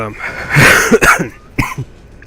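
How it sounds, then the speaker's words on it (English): A few harsh coughs close to the microphone, bunched in the middle with a final one shortly after, sounding throaty and forceful. "So if there's coughing, I apologize."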